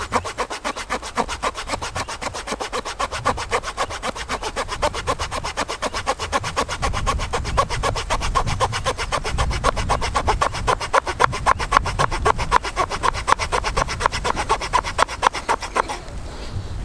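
A small pocket-knife saw cuts through dried linden wood in quick, even back-and-forth rasping strokes, dozens in a steady rhythm, loud and close, stopping just before the end.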